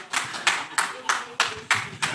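An audience at a live soccer draw event claps for the CEO in a regular series of about seven crisp bursts, fairly close, with a little background voice underneath.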